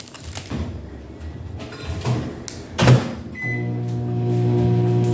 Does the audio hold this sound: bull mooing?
no